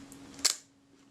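A Braun Paxette Reflex Automatic camera shutter cocked with a tool gives a single sharp mechanical click midway, close and fairly quiet, over a faint steady hum.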